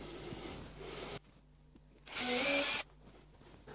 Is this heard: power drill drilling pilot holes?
yes